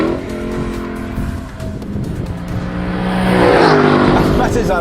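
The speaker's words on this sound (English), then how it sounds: "under there is a naturally aspirated 5-litre V8" Naturally aspirated 5-litre V8 of a new Lexus LC500 revving loudly, building to a strong snarl near the end, with a voice talking over it.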